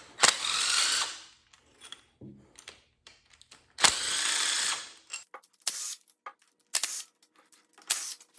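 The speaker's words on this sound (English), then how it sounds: "I've already went ahead and cracked them all loose, so I can just run them out quickly with this" A hand ratchet quickly spins out pre-loosened 12 mm engine bolts on a Subaru WRX during a rebuild, giving several bursts of fast clicking separated by short pauses and small metallic taps, close up with no talking.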